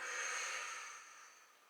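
A single long breath during a shoulder-shrug stretching exercise, a soft airy rush that starts full and gradually fades over under two seconds, heard close and alone without talk.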